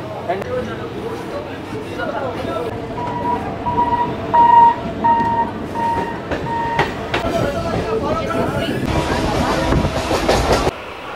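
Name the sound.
train ride, Howrah local train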